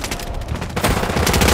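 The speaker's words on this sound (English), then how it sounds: "Taking fire!" Rapid automatic gunfire in Call of Duty, a dense burst of loud shots that grows heavier partway through the brief moment, with no talk.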